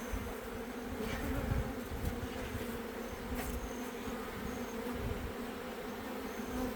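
Honeybees swarm around an opened beehive after a long winter, giving off a dense, continuous buzzing hum that is close, steady and unbroken, with no voices.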